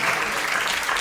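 Studio audience applause for a guest on a Spanish talk show, a steady, dense patter of many hands clapping close by for about a second, with no voices over it.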